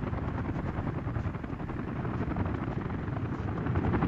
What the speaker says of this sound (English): We'll get the swarm helicopters flying back and forth